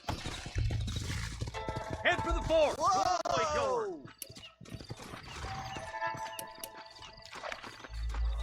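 Horses' hooves clip-clopping in the Western video game Red Dead Redemption, with a horse whinnying midway amid scattered clattering and thuds, while someone talks over them.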